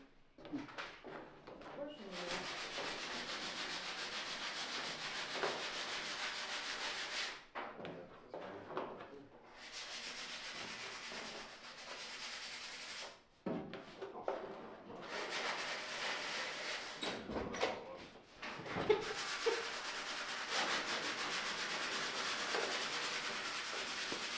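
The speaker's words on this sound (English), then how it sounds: "Want me to start sanding it?" Steady rasping of sanding on a Square Body K5 Blazer goes on in long stretches with short pauses, while people chat nearby.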